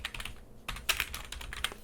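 Close, quiet typing on a computer keyboard: a quick run of light keystrokes with a short pause partway through.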